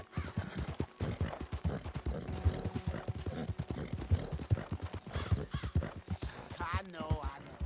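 A horse in Red Dead Redemption 2 clip-clops along with a rapid, steady hoof rhythm and a neigh near the end, while a person talks over it throughout.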